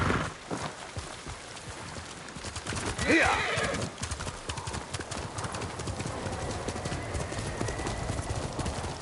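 In the video game Ghost of Tsushima, rapid hoofbeats gallop steadily throughout, with a loud horse whinny rising near the middle over a busy, noisy backdrop.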